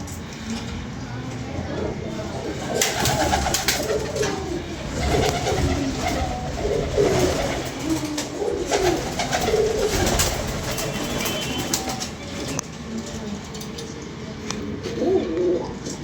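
Pigeons coo repeatedly at close range, soft throaty calls overlapping with rustling, fluttering noises and occasional voices nearby.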